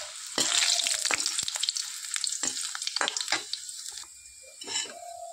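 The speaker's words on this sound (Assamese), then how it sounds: "অকণমান ভাজি চাওঁ।" Raw banana papad fries in hot oil in a wok, a loud continuous crackling sizzle with sharp bursts as pieces hit the oil, alone without talk.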